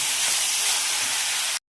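Soaked moong dal and chopped tomatoes sautéing in a hot pan, a loud, steady hiss and sizzle that cuts off abruptly after about a second and a half.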